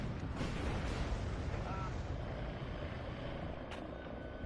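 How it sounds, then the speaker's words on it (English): Howitzer artillery booming in the WARNO war game, a dense, sustained rumble of heavy fire and low engine drone filling the whole stretch with no clear gaps. "our howitzer firing at these blobs as well"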